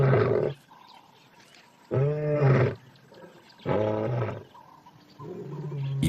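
Lions roar near a reserve enclosure to signal their position: three or four deep, drawn-out roars, each about a second long with short pauses between, loud and close.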